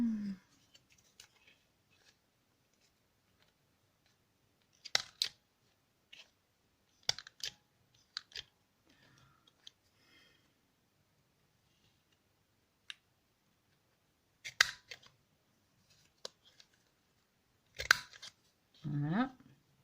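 Scissors round the corners of a paper pop-up card, making sparse, sharp snips and paper crisps spread across the stretch, with short quiet gaps between cuts and a faint voice at the start and end.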